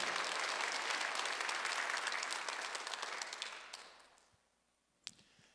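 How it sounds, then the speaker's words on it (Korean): A church congregation at a Sunday worship service claps together, with dense, lively applause that fades out after about four seconds, followed by a few isolated taps. "박수 한번 주세요."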